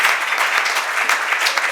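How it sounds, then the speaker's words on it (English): Audience applause at a Ghana Football Association event, steady dense clapping from a crowd throughout, fairly close and loud with no talk over it. "Can we clap for him, please?"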